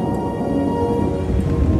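Steady rain pours down with a low rumble of thunder beneath it, a dense continuous wash of sound with no voices.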